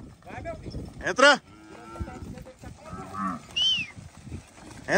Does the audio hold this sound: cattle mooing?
yes